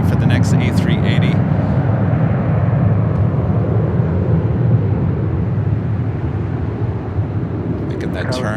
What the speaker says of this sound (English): look over there on the south side as we see a United 777